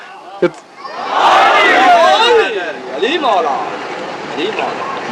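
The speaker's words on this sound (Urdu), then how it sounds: "دونوں ہاتھ بلند کر کے نعرے حیدری حیدری" A large gathering at a religious sermon shouts the Naara-e-Haidari slogan, a loud, sustained wave of massed voices that swells after a brief shout and then gradually fades.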